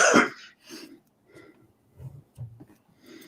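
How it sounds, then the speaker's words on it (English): A sharp, loud cough bursts out close to the microphone at the start. It is followed by quieter breathy and throaty sounds during an online tabletop role-playing game session. "Did you guys hear me cough just now"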